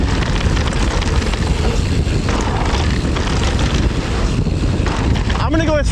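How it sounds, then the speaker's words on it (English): Strong wind blows across a mountain bike singletrack trail, a loud, constant roaring rush that buffets the microphone for the whole stretch, with no letup. "it's windy"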